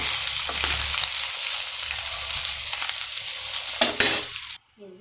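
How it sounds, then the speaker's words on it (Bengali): Fish fries crisp in a pan of oil, a steady bright sizzle with occasional scrapes and clinks as the pieces are stirred and turned, ending abruptly. "এই যে দেখতে পাচ্ছেন আমি কত সুন্দরভাবে উল্টিয়ে পাল্টিয়ে ভেজে নিচ্ছি কড়া করে, যেন কাঁটাগুলো মচমচে হয়ে যায়।"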